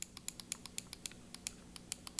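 A medical-grade computer mouse with stiff, high-force buttons clicks about a dozen times in quick, uneven succession, each click sharp and close.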